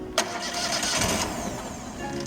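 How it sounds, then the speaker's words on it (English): An Amtex Prowler 2533 LP small engine cranks and catches on a cold start with half choke after a sharp click, running roughly and unevenly close by, its note wavering as it settles. "we're going to crank the engine up, but we'll bring the choke to the center."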